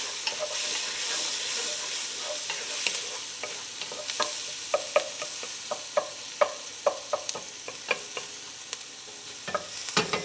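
A pan of ingredients for butternut squash soup with kale and farro sizzles on lowered heat, with a spoon stirring and scraping in irregular clicks over a hissing fry, close up.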